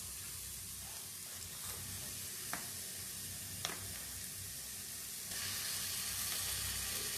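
Garlic paste fries with chopped onion in hot oil, a close steady sizzle with a few soft stirring clicks, the hiss swelling louder near the end.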